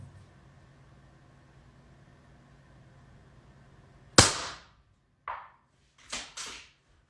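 A single sharp 22 Creedmoor rifle shot fired during an ammunition stress test cracks out loud and close, then decays quickly, followed by a few smaller metallic clicks and clacks.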